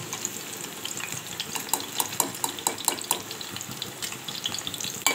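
Okra frying in hot oil for a Marathwada-style curry, a steady crackling sizzle with clicks of stirring throughout, moderately close and fairly quiet, with no voices.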